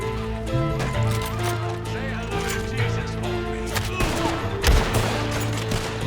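Gunfire in the Western video game Red Dead Online, rapid shots layered over game music and horse sounds, loud and busy throughout.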